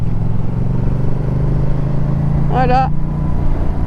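A 2019 Yamaha MT-07 motorcycle engine drones steadily and loudly while being ridden on a road, a constant low rumble throughout, with a brief spoken word partway through.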